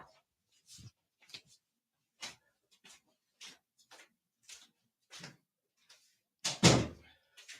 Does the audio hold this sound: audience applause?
no